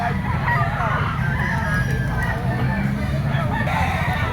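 A yellow-legged banderado pico gamecock crows and clucks nearby, loud and continuous over a noisy background of crowd murmur and other fowl.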